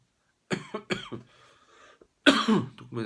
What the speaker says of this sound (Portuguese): Comecei com uma tosse aí por causa do frio